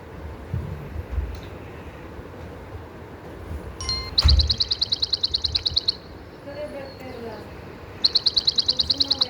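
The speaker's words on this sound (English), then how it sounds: "A sparrow is a small brown bird." Small brown sparrow chirping in two bursts of rapid, evenly spaced high chirps, the first after a click and the second near the end, over quiet outdoor background.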